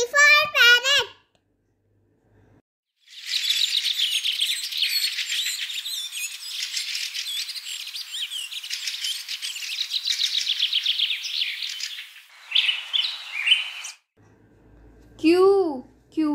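A parrot calls in a long stretch of busy, high chirps and squawks, loud and close. A voice sounds briefly before and after it.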